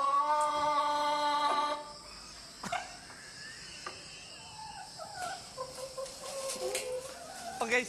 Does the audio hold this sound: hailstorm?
no